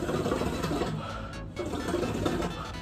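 Water bubbling through a shisha base as air is drawn through it, a dense, steady gurgling that runs continuously at close range with a brief dip midway, no voices.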